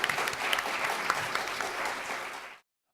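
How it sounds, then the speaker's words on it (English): An audience gives a panel discussion a round of applause, a dense steady wash of clapping that carries on evenly, then cuts off abruptly into silence near the end. "Let's give our panel a round of applause."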